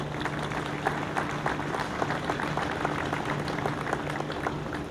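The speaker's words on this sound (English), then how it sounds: "Please give them a round of applause" An audience at an evening ribbon cutting gives a sustained round of applause for board members, steady dense clapping throughout with a low hum beneath and no clear speech.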